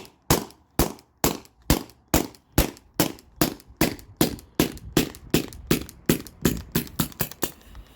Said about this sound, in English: So I'm just going to dry fire this.